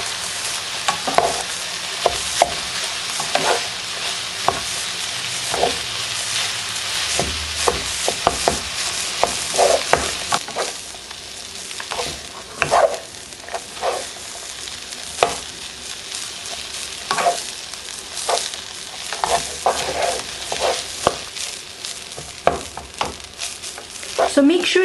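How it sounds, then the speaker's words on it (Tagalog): Rice gets stirred into sautéed bagoong (fermented shrimp paste) in a pan. A spatula scrapes and clacks repeatedly over a steady sizzle, with irregular strokes throughout and no voices. "Pag medyo nagisa na natin yung ating bagoong, pwede na natin isama yung ating rice. And then, hahaluin lang natin to."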